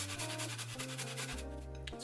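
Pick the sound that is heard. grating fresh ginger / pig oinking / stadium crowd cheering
grating fresh ginger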